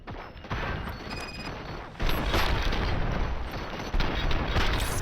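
Gunfire in the video game Robocop Rogue City comes in dense, rapid bursts of shots and booms, loud and continuous with brief lulls between volleys.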